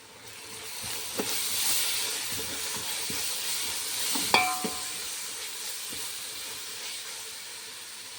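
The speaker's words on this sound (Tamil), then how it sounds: "4 table spoon ginger garlic paste, அதை சேர்த்து நல்லா பச்சை வாசனை போகிற அளவுக்கு வதக்கி விட்டுடலாம்" Four tablespoons of ginger garlic paste sauté in a hot pan for chicken biryani, hissing and sizzling steadily close by, with occasional clicks and a brief clank as the paste is stirred.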